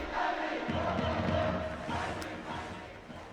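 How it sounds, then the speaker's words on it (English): A stadium crowd at a baseball game, a World Series matchup between Miami and Chicago, roars steadily and loudly, rising behind a batter with no clear voice standing out. "Crowd gets behind Dark"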